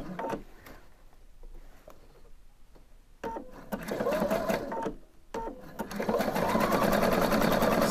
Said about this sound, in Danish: Og så har jeg zigzagget elastikken fint på her.